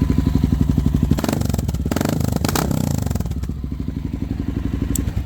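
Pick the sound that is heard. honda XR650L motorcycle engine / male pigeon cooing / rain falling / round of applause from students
honda XR650L motorcycle engine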